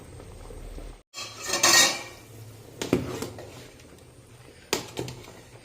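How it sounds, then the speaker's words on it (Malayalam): Cooked ration rice being scooped from a pot into a vessel, with metal ladle scrapes and clinks against the pot in a few separate bursts, close by, over a faint steady hiss. "ഇപ്പം ഇത് ഞാൻ ഊറ്റുകയല്ല അല്ല ചെയ്യുന്നത് കോരി പാത്രം ഉണ്ടല്ലോ അതിൻ്റെ അകത്തോട്ടെ കോരിയെടുക്കുകയാണ്"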